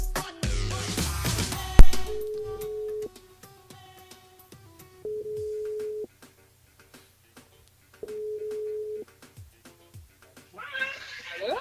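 Telephone ringback tone on a call from a live radio show, three evenly spaced long beeps separated by silences, clear and alone after a brief burst of music at the start.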